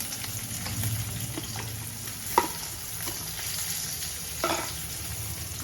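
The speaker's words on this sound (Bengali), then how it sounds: "এই তেলটার মধ্যেই আমি দিয়ে দেবো দুটো শুকনো লঙ্কা, আর একটু হচ্ছে গোটা জিরে, আর এর মধ্যে দিয়ে দেবো পেঁয়াজ" Dried chillies, whole cumin and onion frying in oil in a pan, a continuous close sizzle with a few sharp clinks and stirring scrapes.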